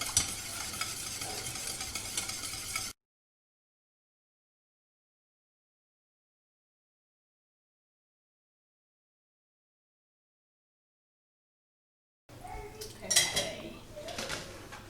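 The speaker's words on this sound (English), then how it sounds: "So I'm going to take it off the heat and keep whisking for another minute" A whisk beats custard in a pan off the heat, making rapid, close scraping and rattling against the metal. It stops for a long silent gap, then resumes with louder clattering strokes.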